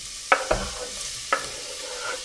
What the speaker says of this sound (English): We've got 2 tablespoons of cooking oil in here, heating away, and it's ready. We're going to go and add our onion,